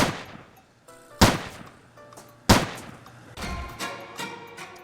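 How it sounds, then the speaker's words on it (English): Sharp gunshots ring out in Roblox Apocalypse Rising 2, a handful of distinct cracks spaced about a second apart with quick trailing bursts, fairly close and standing alone without talk. "I was clearly shooting at his head."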